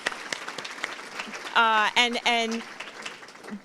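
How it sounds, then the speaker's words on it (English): Scattered clapping from a room of staff at a governance in-service meeting, with sparse claps early and a voice talking over the middle of the applause. "A round of applause."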